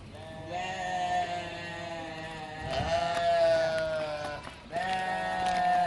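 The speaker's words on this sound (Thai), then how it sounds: "โอ้เสียงมันร้องเห็นไหมเสียงแกะมันร้อง" Sheep at a small zoo bleating loudly and close, several long wavering calls one after another, with a second animal answering near the end.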